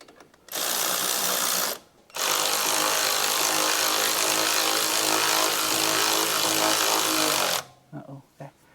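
Power tool snugging down a bolt on a one-ton Jeep ZJ, running loud and steady in two bursts, a short one then a long continuous run of about five and a half seconds, with quiet pauses between.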